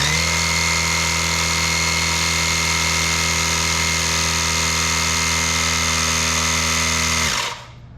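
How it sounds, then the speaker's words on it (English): A LASFIT Air portable air compressor inflates a tire, giving a loud, steady motorized drone that holds constant for about seven seconds before cutting off abruptly once it reaches the set pressure. "once the air pump gets to the set amount of PSI that you want, it automatically turns off"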